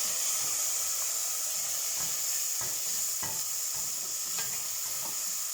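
Tomatoes frying in a pan after ginger and garlic, a continuous close sizzle broken by repeated sharp scraping taps of a spoon stirring every half second or so.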